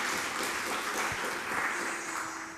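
A conference audience applauds the presenter after a keynote lecture, a steady, dense crackle of many hands clapping together for a couple of seconds, easing off slightly at the end.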